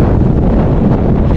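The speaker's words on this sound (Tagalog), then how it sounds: "lakas ng hangin" Strong wind buffets the microphone in a loud, continuous rumbling roar with no break throughout.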